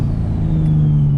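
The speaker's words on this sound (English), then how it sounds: "I'm gonna make one more turbo noise for you guys" Turbocharged 600hp Nissan 370Z engine revving steadily at high pitch with a rising whine, loud and close, a continuous sustained drone with no talk.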